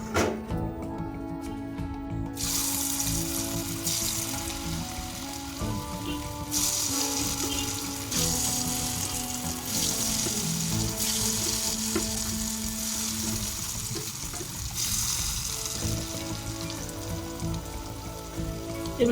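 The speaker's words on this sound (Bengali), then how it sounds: "এভাবে আমরা এই আলুগুলোকেও প্রায় মিনিট 10 ধরে লো থেকে মিডিয়াম ফ্লেমের মধ্যে ভাজা করে নেব" Potato pieces fry in hot oil in a wok over low to medium flame, a steady close sizzle with crackling spatter running throughout, joined by occasional stirring and utensil clatter, with no talking.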